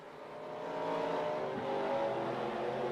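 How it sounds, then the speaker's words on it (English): A pace car's engine drones in a racing video game at Dodge Motordome, a steady, fairly close hum that swells slightly as it drives on, with no talk. "The pace car has come out."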